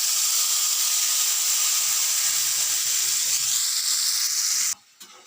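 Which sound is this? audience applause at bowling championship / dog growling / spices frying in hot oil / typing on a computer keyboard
spices frying in hot oil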